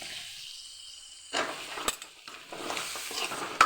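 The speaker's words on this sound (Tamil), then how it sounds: "போட்டு நல்லா அந்த பச்சை வாசனை போகிற அளவுக்கு நல்லா வதக்கணும்" Broad beans (avarakkai) sautéed in a pan for kara kuzhambu: a quiet start, then intermittent bursts of spatula scraping and soft sizzling, fairly close and moderately loud.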